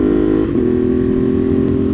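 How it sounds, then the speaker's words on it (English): A Ducati Monster motorcycle's exhaust drones steadily and loudly from the rider's position, a strong low rumble with a smooth, even pitch that dips briefly and then holds. "God, I forgot how good the exhaust sounds when you're on this thing."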